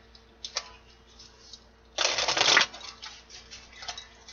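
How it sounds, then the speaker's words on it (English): Tarot cards are shuffled in a quiet room. A few light flicks come first, then a dense riffle of about half a second, then softer scattered taps. "One more shuffle."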